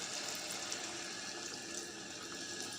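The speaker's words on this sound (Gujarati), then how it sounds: "અને પછી પાણી નાખવાનું" Water pours steadily into a pan of potato-pea curry, a continuous bright hiss and splash at low level with no talking.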